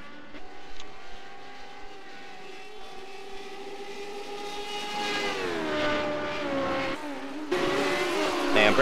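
Race car engine in a racing video game at Circuit Gilles Villeneuve, a steady high whine that drops in pitch as the car brakes hard into a high-speed chicane, then picks up again with a louder burst near the end.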